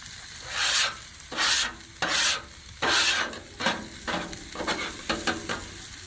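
Food cooking in oil on a Blackstone griddle, close scraping and stirring strokes in uneven bursts over a continuous sizzle, with no talking.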